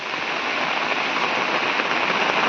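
Heavy rain pours down steadily in the Konkan countryside near a house, a dense, loud, even hiss with no letup throughout.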